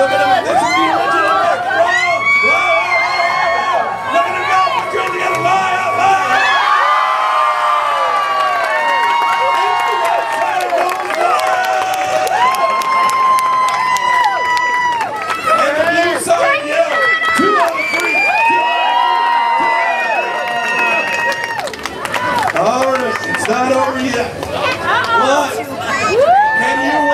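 Crowd at a Canadian lumberjack show's log rolling contest cheering and chattering continuously while an announcer talks loudly over a PA on top of the noise.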